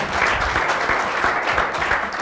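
An audience claps steadily in a dense, continuous round of applause, close and even throughout, with no voices over it.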